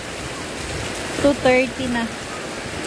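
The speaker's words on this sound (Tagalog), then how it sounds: "Sobrang lakas ng hangin at ulan." Steady, heavy rain hisses and roars throughout, driven by strong wind, with a voice speaking briefly in the middle.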